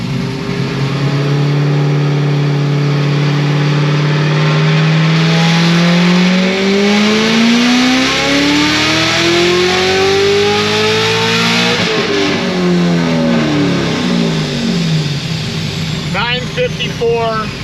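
A supercharged Corvette C7 Z06 on a dyno, its engine building in a long, loud sweeping rev with a steadily climbing whine, peaking near twelve seconds, then falling away and sputtering down as it coasts off.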